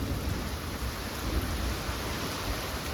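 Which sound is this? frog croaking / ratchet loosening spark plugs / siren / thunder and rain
thunder and rain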